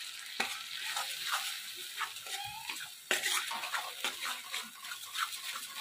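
Spice paste of ginger paste, turmeric and chilli powders sizzling in a pan with oil while being stirred, soft repeated scrapes over a steady hiss, close and fairly quiet.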